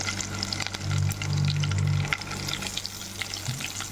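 Onion pieces frying in hot oil with tempering spices such as dried red chillies and curry leaves, a close, steady hiss and crackle that swells briefly before settling into a continuous sizzle.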